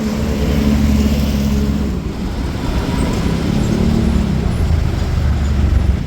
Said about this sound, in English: That'll be the SkyTrain then.